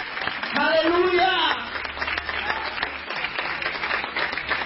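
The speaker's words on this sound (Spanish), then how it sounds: "Dale palmas al Señor en esta noche." Church congregation clapping and cheering during an evening Spanish-language worship service, a dense wash of applause swelling loud for the first second or so, then continuing steadily beneath a voice.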